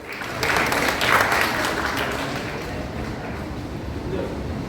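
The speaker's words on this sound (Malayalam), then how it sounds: "ഒന്ന് ക്ലാപ്പ് ചെയ്യൂ" An audience claps at a family gathering quiz event, a burst of applause that rises quickly and then thins to lighter, scattered clapping.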